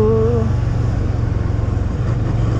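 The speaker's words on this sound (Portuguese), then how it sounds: "Acelera essa moto." A motorcycle on a street in Mooca, São Paulo, throbs loudly and close with a low, pulsing engine note, a brief higher tone fading in the first half second before the steady rumble carries on.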